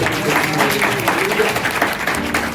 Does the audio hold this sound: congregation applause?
yes